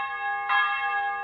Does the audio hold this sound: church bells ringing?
yes